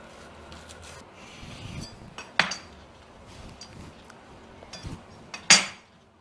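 A knife cuts a vegetable cheese toast into four pieces, giving a few sharp scraping scrapes and clinks against a plate, spaced apart over quiet background.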